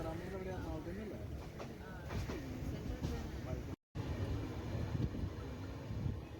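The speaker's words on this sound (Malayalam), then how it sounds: "അടുത്ത സ്റ്റേഷൻ ലക്ഷ്യമാക്കി ട്രെയിൻ പായുകയാണ്" A train runs on between Kayamkulam and the next station on the Kottayam to Kanniyakumari line, a steady rolling rumble with faint rhythmic clatter, while a voice talks over it and a brief dropout breaks the noise midway.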